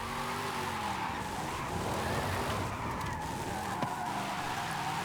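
In Forza Horizon 5, a low-horsepower car drifts over slightly icy terrain, its engine droning steadily under continuous tyre skid and squeal without a break.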